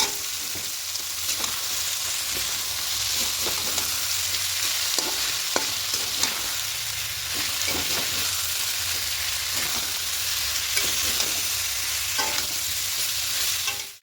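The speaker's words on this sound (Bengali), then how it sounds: "এবার খুব ভালো করে সব কিছু মিশিয়ে নেব।" A potato and cauliflower roast mixture stirred in a frying pan, with a steady, close sizzle and repeated scraping of the spatula throughout, ending abruptly.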